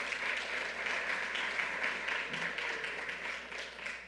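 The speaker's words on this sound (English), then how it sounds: "Let's give you a round of applause." A community center audience claps steadily in a hall at a public event with a New York governor, a soft, even patter heard from a moderate distance that runs throughout.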